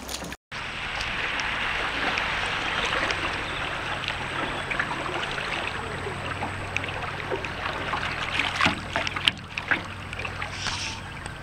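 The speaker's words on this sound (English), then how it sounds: "Those are some big waves." Big waves slosh and splash around a canoe on open water, a continuous close churning of water with a few sharper slaps near the end.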